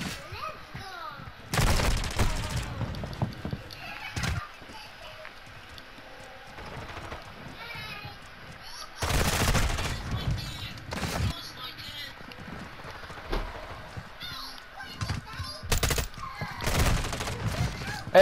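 Gunfire in the Call of Duty: Modern Warfare II video game, bursts of shots crackling in several loud clusters with pauses between, while players talk over it.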